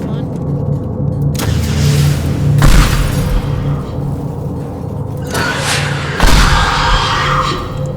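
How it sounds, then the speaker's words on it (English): Rocket launcher explosions in the video game Teardown, two deep booming blasts with rumbling tails over a constant engine-like hum, and a voice talking briefly. "let's go to the rocket launcher"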